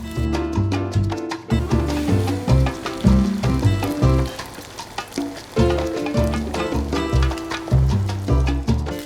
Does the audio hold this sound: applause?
no